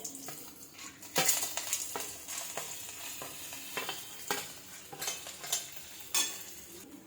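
Roasted chana dal stir-fried in a pan for a puffed-rice chivda, with a steady low sizzle broken by repeated scraping strokes of a spoon against the pan at an irregular pace, close and fairly quiet, no talking.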